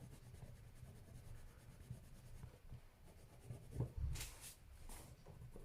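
Wax pencil colouring on thick, quality paper gives a quiet, repeated scratchy rubbing of the pencil tip pressed hard, with a few brief sharper strokes near the end, close and faint.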